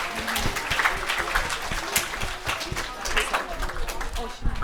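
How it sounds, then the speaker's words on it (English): A crowd applauds children at a gurukula camp graduation, a moderate burst of clapping with uneven, sharper claps standing out and some voices mixed in. "Can we clap for them, please?"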